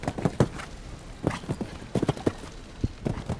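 Hooves striking the ground in irregular clusters as a horse canters and jumps during a show jumping final, sounding close and crisp over light arena background.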